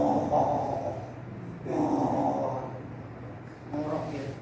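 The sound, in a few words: voice imitating snoring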